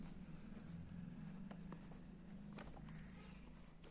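Chalk or marker writing on a board during a Hindi geometry lesson, faint scratchy strokes in short bursts over a low room hum.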